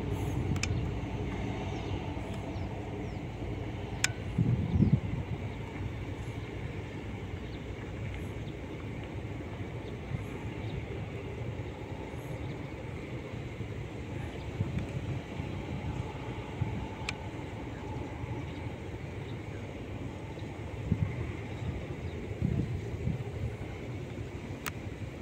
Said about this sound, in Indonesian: Kereta GC ini atau kereta kuning, kereta sweeper, tampak bergerak di lintasan